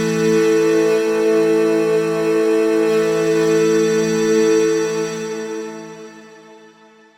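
Sustained ambient pad from the Pigments synth with two detuned unison voices, delay, reverb and shimmer, a steady rich chord drone that holds loudly alone before slowly fading out.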